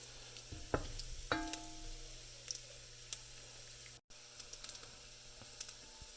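Bacon rendering its fat in a pan, a quiet steady sizzle punctuated by a few sharp clicks and pops, with a low background hum.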